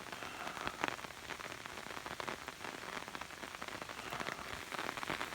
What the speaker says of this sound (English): Okay, I'm gonna go in before the heavy rain starts.